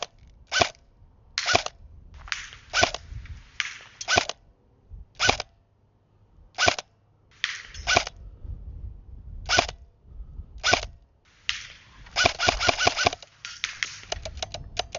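Airsoft gun firing at a target about 150 feet away with an 11.1 battery fitted, sharp close shots spaced irregularly, some single and some in quick clusters, with a rapid burst near the end.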